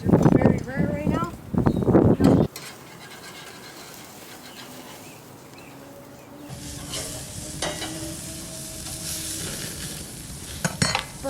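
Burgers sizzle on a very hot grill: a steady, fairly quiet hiss that swells louder partway through, with bursts of speech at the start and a short voice near the end.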